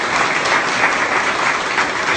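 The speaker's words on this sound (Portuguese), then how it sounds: "Pode aplaudir bem forte ao Senhor Jesus." A church congregation claps hard in praise during a missionary service in Bahia, a dense, steady wash of many hands that holds at full level for about two seconds with no talk over it.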